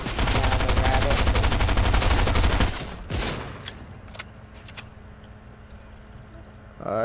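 Rapid bursts of SMG fire in the Fortnite video game, loud and dense for nearly three seconds, then a single sharp shot and scattered quieter effects, with another burst starting at the end.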